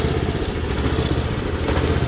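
A used Japanese Iseki rice transplanter's small engine runs steadily nearby, a loud, even, rattling putter with mechanical clatter and no pauses.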